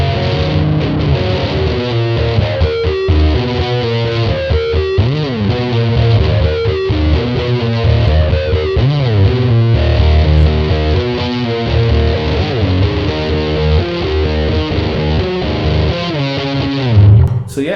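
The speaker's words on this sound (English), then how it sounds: "You know, it's actually a pretty good muff sound." A thick, saturated electric guitar riff through a Big Muff fuzz pedal and Mooer preamp, drenched in heavy fuzz distortion, continuous and loud with a woolly sustain, playing alone with no voices.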